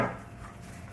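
A knife chops through a sheet of spinach pasta dough on a board, one firm cut at the start followed by a soft, muted rubbing as the blade settles, close and quiet.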